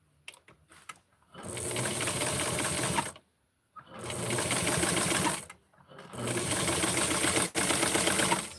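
Sewing machine stitching a 1966 Francie doll outfit, running in three steady bursts of rapid rhythmic needle clatter separated by short pauses, close and clear with no talk.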